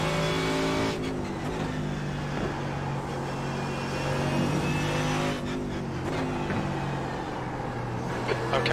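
A GT3 race car engine in the iRacing sim at the Nürburgring roars steadily at high revs, with a few gear-change dips and other cars' engines in the mix, continuous and loud with no talking.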